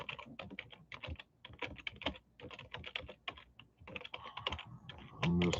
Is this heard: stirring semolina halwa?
no